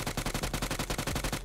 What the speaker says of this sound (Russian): Кто там по мне шмалял?